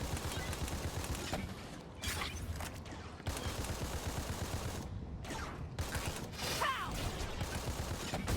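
Battleborn gunfire crackles in dense, continuous bursts of shots through the whole stretch, loud and near with mechanical clatter and brief gaps, no talking over it.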